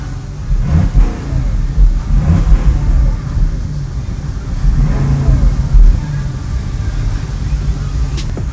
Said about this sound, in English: people would enjoy hearing a little bit of an exhaust note